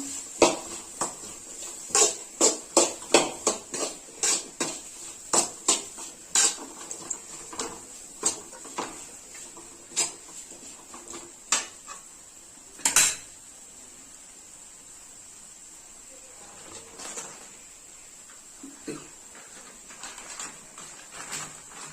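Papaya pickle is stirred in a pan, with a quick series of sharp spoon-on-pan taps and knocks that are busy at first, then thin out into sparse, fainter clinks over a low background hiss.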